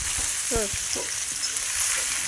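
Mutton frying in a pan with salt and pepper powder, a steady close sizzle running throughout with a brief scrape of stirring near the start.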